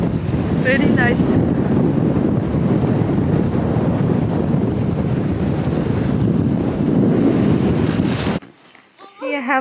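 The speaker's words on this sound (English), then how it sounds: "Super windy." Strong gusts batter the microphone during a windstorm, a loud, continuous rumbling roar of wind noise that stops abruptly near the end, leaving a brief quieter stretch with faint sounds.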